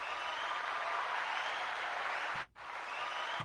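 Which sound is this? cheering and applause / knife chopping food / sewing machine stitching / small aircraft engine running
cheering and applause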